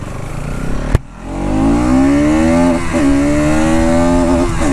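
A 2024 Bajaj Pulsar NS200 motorcycle engine catches with a sharp click and then idles and revs steadily nearby, loud and continuous with slight dips in pitch.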